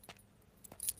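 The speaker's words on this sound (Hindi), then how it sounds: "चल चल, चाबी निकाल अब जेब से।" A few brief metallic jingles of keys being pulled from a pocket, coming in small quiet bursts near the start and again toward the end over a hushed background.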